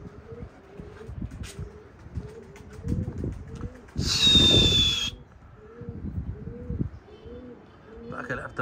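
Red mukhalif pigeons coo in a soft, steady rhythm close by, one throaty call after another, with a brief hissing rustle midway and a faint voice in the background.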